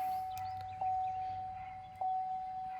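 A truck's door-open warning chimes as a steady, loud, continuous high tone, with two brief jumps in level, on a 2.8 Duramax Chevrolet Colorado or GMC Canyon parked with the door open.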